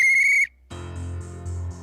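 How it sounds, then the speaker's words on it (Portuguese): A sharp, high-pitched whistle holds steady for about half a second. After a short gap comes a lower, buzzy, pulsing tone with layered harmonics, with no voices. "Um barulho de apito."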